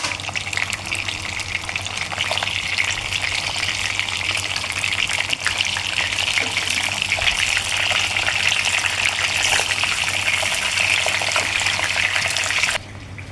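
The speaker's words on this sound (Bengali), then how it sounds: "গরম তেলে একটা একটা করে পটল দিয়ে দেবো, দিয়ে আমরা হালকা ভাজবো" Pointed gourd (potol) frying in hot oil, a loud, steady, hissing sizzle close by that continues unbroken and drops off sharply at the very end.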